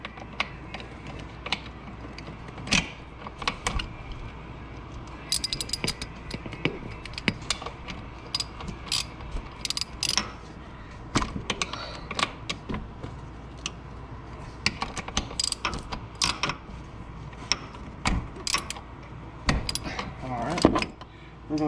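Bolts being removed with a ratcheting socket wrench on a 2020 Honda Foreman Rubicon ATV: steady quiet clicking ratchet strokes and small metallic taps throughout, close but low in level, with a person talking now and then.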